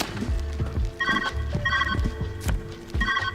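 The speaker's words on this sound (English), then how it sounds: "Phone's ringing." In the video game Viewfinder, a telephone rings in repeated short trilling bursts over low in-game ambience and soft footstep-like thuds, moderately quiet.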